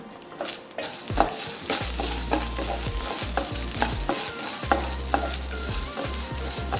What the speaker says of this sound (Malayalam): പിന്നെ ചെറിയ ഉള്ളി ഇടാം